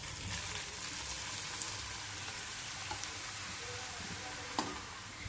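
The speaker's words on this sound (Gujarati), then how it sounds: "બટેકાનું છીણ બનાવેલું હતું તેને તળી લઈશું" Grated potato frying in hot oil over a low flame, a steady soft sizzle and bubbling that carries evenly throughout with a few faint clinks, and no voices.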